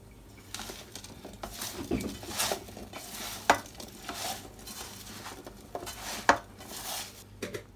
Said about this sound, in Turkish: Şöyle biraz eriyene kadar karıştırıyorum.